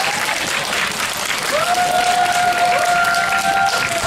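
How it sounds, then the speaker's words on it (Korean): A crowd at an outdoor insect and butterfly festival in a park claps steadily and loudly to welcome a singer onto the stage, with a faint tone running underneath. "큰 박수 주십시오."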